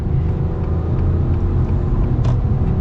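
An Acura TLX A-Spec engine hums steadily with a low rumble, picking up speed in a continuous drone close by, with no voices.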